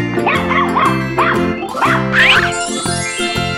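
An animated cartoon dog barks in a series of loud, close, bright yaps with a jingling tinkle, arriving in quick rhythmic bursts, then ending in a rising higher-pitched call.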